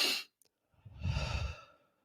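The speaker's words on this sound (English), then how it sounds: "Take a deep breath." A single deep breath drawn in and slowly let out, close and fairly loud, preceded by a short sharp exhale, with no talking.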